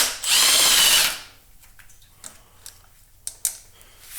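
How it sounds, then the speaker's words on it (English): A power tool runs in one loud burst of about a second, undoing 12mm bolts on a Subaru EJ20K engine from a GC8 WRX/STI, followed by quiet, scattered clicks and clinks of parts. "And then we got to undo these two 12mm bolts."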